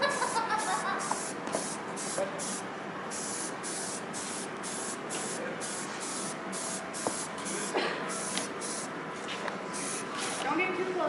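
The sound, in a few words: spray paint being sprayed from a can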